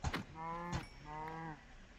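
A cow in a video game moos twice in clear, drawn-out calls, the first cut short by a brief click and the second held steadily for almost a second before stopping.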